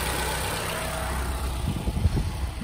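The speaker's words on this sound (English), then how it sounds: "It's got a beautiful running motor, no issues whatsoever." A 2013 Scion tC engine idling steadily after front-end collision damage, a continuous mid-level hum with a few low throbbing pulses toward the end and no talk.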